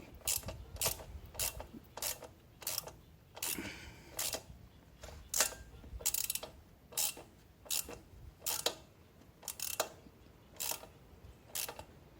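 A ratchet clicks in a regular rapid rhythm, close and crisp, tightening a thread-locked bolt while raising the front fender on an Ice Bear Champion, with brief pauses between bursts of strokes.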